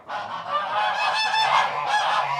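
Farm geese honking loudly and close up, a dense, continuous chorus of overlapping nasal calls with no talk.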